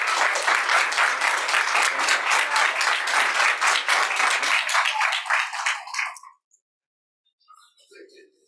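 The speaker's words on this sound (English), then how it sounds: "Big round of applause." A room of people at a regular board meeting applauds teachers, loud dense clapping that holds steady for about six seconds and then stops abruptly, followed by silence and a few faint sounds.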